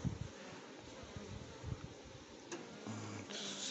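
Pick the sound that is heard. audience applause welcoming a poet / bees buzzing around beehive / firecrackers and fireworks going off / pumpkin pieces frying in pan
bees buzzing around beehive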